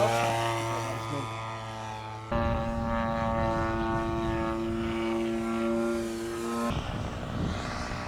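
An RC model warbird airplane flying overhead at a club field, its propeller engine a loud sustained drone whose pitch shifts suddenly as it passes, with no talk.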